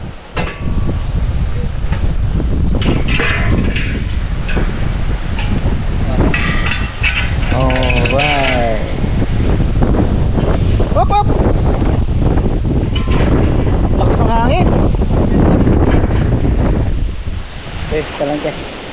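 Strong wind roars outdoors beside a fishpond, a loud constant rush buffeting the microphone throughout, with voices speaking over it.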